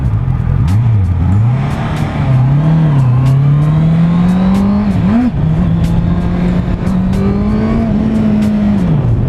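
A 2018 Honda CBR650F motorcycle engine revving hard while riding, a loud, steady, close inline-four drone whose pitch rises and dips with the throttle, with wind rush and no talking.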